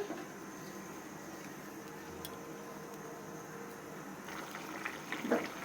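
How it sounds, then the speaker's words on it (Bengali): A pan of desi prawn curry simmers at a steady boil, giving a soft continuous bubbling hiss, low and close, with a few faint clinks near the end. "দেখুন আমাদের তরকারিটা বল কাটছে"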